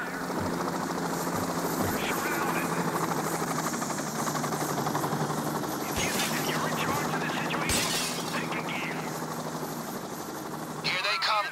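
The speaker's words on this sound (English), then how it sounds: "Choppers and SWAT vans all over the place around you." Police helicopters arriving in the video game PayDay 2 during a heist, a continuous loud rotor drone under game ambience with a couple of sharp crashes and brief bursts of noise.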